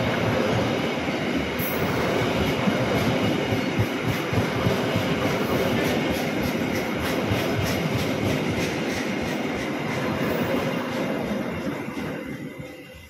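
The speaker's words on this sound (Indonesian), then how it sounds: "komuter lain ekonomi Bandung Raya saat ini barusan tiba di stasiun kereta" A Bandung Raya economy commuter train rolls into Cimahi station with a loud continuous rumble, rhythmic wheel clatter and faint squeal, slowly fading as it comes to a stop.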